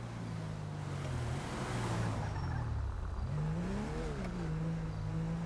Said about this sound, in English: I heard like a idling engine off to the right